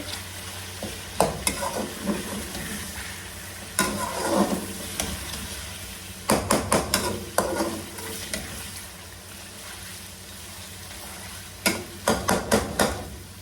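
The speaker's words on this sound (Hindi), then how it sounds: "वो पेस्ट डालेंगे हम इसमें, और इसको इसमें अच्छे से मिक्स कर लेंगे।" Garlic paste being stirred into chicken karahi in a pan, with soft scraping and sizzling strokes that come in short clustered bursts separated by quieter stretches of low frying hiss.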